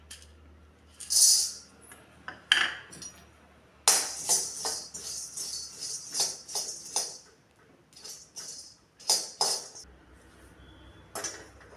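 Whole spices, including triphala, being dry-roasted in a kadhai produce sharp metallic clinks and scrapes as a spoon strikes and stirs the pan in irregular bursts, close and clear against a quiet background.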